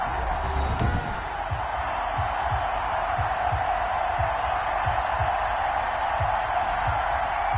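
Stadium crowd noise before an NFL game between the Miami Dolphins and New England Patriots: a steady, broad roar of a large crowd throughout, with a rhythmic low thumping beneath it.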